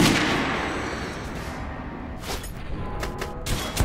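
Guns fired at an indoor shooting range in Metro Last Light, a few sharp reports echoing off the walls, the last of them arriving in quick succession near the end.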